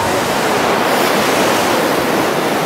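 Steady rushing water of Gold River in Dominica, a broad loud wash of river flow filling the whole clip with no voices over it.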